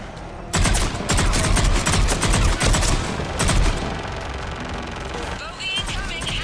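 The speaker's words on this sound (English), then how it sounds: "Assault rifle." Sustained assault rifle fire in Mass Effect 3 combat, loud overlapping bursts and single cracks crowding the whole stretch, with a voice briefly heard amid the shooting.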